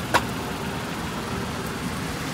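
A car cruising along the Mumbai-Goa highway gives off a steady, moderate engine drone and road rumble with one short sharp click near the start, and no voices.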